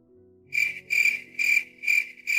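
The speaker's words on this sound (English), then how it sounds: "Insert cricket noise." Cricket chirping sound effect: a steady high-pitched trill pulsing in five short regular bursts, clear and fairly close against a faint low background hum.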